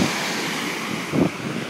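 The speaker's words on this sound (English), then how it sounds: "But this is the beach." Surf on a beach in Punta Cana, Dominican Republic, a steady wash of waves with heavy wind buffeting the microphone and a brief louder gust or splash near the end.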